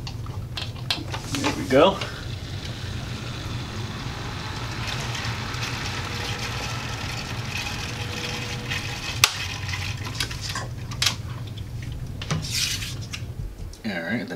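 A pump hums steadily while filling a Corsair Hydro X custom water-cooling loop, a low continuous drone with faint rattles and sloshing, under a man's brief speech.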